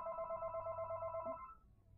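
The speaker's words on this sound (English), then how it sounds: "Do I have to care about this phone call?" A telephone ringing in a life-simulation game, a clear electronic trilling ring that repeats quickly for over a second before cutting off, fairly quiet against a low background hum.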